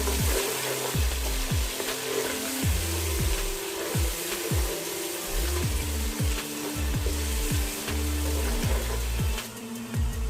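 Ginger garlic paste frying on high flame, a steady close sizzle with a repeated rhythmic scraping or stirring against the pan running underneath throughout.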